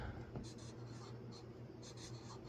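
A pen scratching across paper while a reward list is written out, in short strokes with brief pauses, close and quiet.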